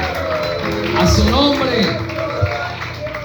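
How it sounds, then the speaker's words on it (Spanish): A church congregation claps and cheers with scattered shouts, a steady mid-distance wash of applause running under a voice speaking over it. "Dale un aplauso al Señor."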